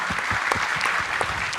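Applause from the audience at a culinary seminar on Indonesian spices, honoring the organizing committee, with many hands clapping in a steady, close, continuous patter.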